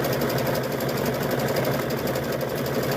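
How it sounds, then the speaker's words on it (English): A sewing machine runs steadily as it stitches rope around in a circle, a fast, even mechanical whir with a rapid rhythmic pulse, close and continuous with no talking. "Sewing right around"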